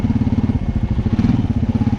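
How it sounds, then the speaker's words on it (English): Exhaust of a 32 Aztex vehicle rumbling in a low gear under light throttle, a close, steady pulsing burble with rhythmic throbbing beats, faintly crackling, heard alone. "In low gear, the exhaust is like in a lower gear and barely in the gas like that"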